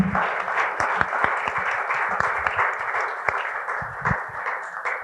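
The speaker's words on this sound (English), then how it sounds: "please first join me in giving these panelists and Jill a round of applause" Steady, dense audience applause for the panelists at a Shakespeare panel discussion, with many hands clapping close and loud and a few sharper individual claps standing out throughout.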